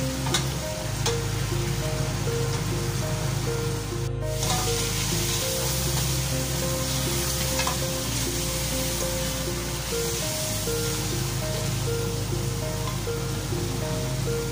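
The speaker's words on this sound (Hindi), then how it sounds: "मसाले डालने के बाद आपने इसको इतना भूनना है कि इसमें कोई हीक ना रहे" Beef trotters (paya) fry with spices in a pot, giving a steady, loud sizzle with a constant hiss and no talking over it.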